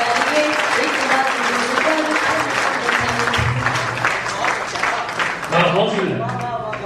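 Sustained, dense applause from the audience at a Hindi poetry recital, loud and steady for several seconds, with a voice speaking over it.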